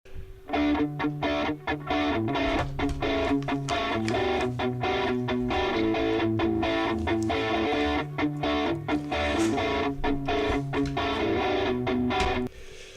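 Distorted electric guitar tracks recorded through an Axe-Fx-style 11 Rack preset, heavy chugging riffs with sharp rhythmic stops, loud and dense, playing alone without voices.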